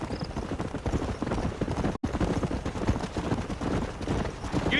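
Horse hooves clip-clop at a steady trotting rhythm in the Western open-world game Red Dead Redemption, loud and continuous with a brief dropout midway, no talk over them.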